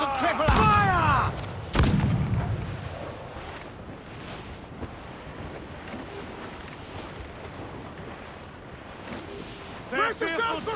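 Ship cannons firing in Assassin's Creed IV Black Flag at sea: two loud booming volleys open the clip, then a rumbling lull with wind and water noise, and another burst near the end, with shouted voices over the action.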